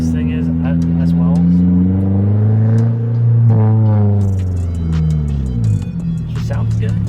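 A Nissan S13's engine runs loud and close, a deep throaty rumble that swells as it revs up and drops back, with people chatting over it.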